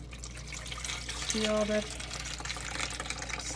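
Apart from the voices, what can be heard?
straining starchy water off rice through a pot with holes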